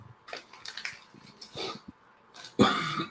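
A man coughs, with a few soft throat sounds leading to one sharp, loud, close cough burst near the end.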